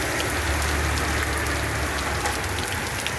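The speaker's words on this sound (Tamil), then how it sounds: "10 நிமிஷம் மழை இருந்தாலும் அது பெரிய மழை." Heavy rain falling hard and close, a loud, dense and unvarying roar of drops striking surfaces.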